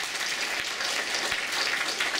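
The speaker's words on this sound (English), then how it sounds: "Give them a round of applause." An audience at a video game player summit claps steadily in a sustained round of applause, a dense patter of many hands without pause.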